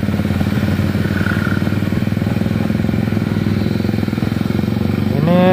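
A Yamaha Lexi 155cc scooter engine drones loud and close on a test ride, holding a steady, even rumble for the whole stretch.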